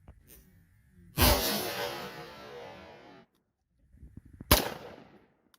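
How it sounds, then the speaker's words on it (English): Two loud rifle shots are fired outdoors at UHMW and composite armor targets, each a sharp crack followed by a long rolling echo, spaced a few seconds apart. "So we're going to step up and see what happens when we use a rifle."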